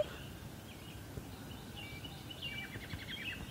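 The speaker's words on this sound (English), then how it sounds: "That's a bird." Birds chirp faintly outdoors, with brief high tweets in the latter half over a low background rumble.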